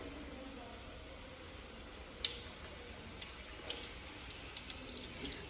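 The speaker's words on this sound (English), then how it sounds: "Wet hands with water." Running tap water hisses softly and steadily while hands are wetted at a sink, with a few small splashes and clicks rising over the stream.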